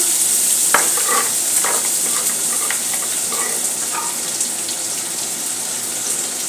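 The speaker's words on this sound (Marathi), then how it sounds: "कांदा चांगला गुलाबी होईपर्यंत आपल्याला परतायचा आहे" Large onion and crushed garlic sautéed in a pan for Maharashtrian-style pithla, a bright continuous sizzle with occasional spatula scrapes and clinks near the start, close and steady with no voices.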